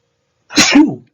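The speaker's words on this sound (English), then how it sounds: "I'm sneezing a lot because the weather is changing." A single loud, close sneeze from an adult: a short sharp burst with a voiced tail, heard alone in a quiet room.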